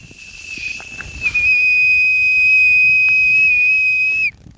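Handmade ash wood whistle blown by Jean-Louis in Lozère, giving one loud, steady high-pitched tone held for about three seconds and then cut off sharply, with faint rustling before it.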